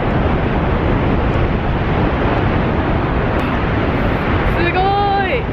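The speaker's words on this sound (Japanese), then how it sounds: "あ、もう滝の中にいる感じ。" Niagara Falls roars up close, a loud, unbroken rush of falling water that fills the whole stretch, with a voice rising briefly over it near the end.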